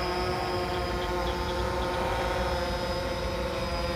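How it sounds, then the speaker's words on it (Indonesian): A DJI Phantom 3 Standard drone flies outdoors toward a main road, giving a steady, continuous whirring motor and propeller drone with a faint high whine, held at an even loudness throughout with no talk. "kita terbangin lagi si drone-nya ke arah jalan raya ya"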